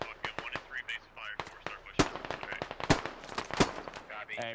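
Rapid bursts of rifle and machine-gun fire in the Squad military shooter game, sharp close cracks mixed with more distant rattling volleys, irregular and dense over a few seconds, with some faint voice underneath.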